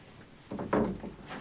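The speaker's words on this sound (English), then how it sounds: "And it's set up with a sliding door." A mahogany sliding door on the head of a 1963 H. De Haas 78 trawler rumbles along its track with a short wooden slide and a soft thump, close and brief.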